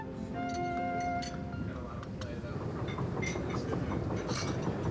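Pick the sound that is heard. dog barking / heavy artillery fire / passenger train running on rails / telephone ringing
passenger train running on rails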